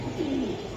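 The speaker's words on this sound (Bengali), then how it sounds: "বাহ অনেক সুন্দর চোখের কবুতর" A Giribaz pigeon coos once, a low rolling call heard up close against a soft background.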